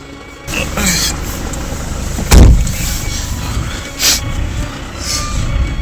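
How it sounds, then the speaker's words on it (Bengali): A car pulls up before dawn in Darjeeling to collect travellers for Tiger Hill. A steady engine rumble runs throughout, with a sharp thump near the middle and a brief rise in noise later on. "গাড়ি চলে আসছে।"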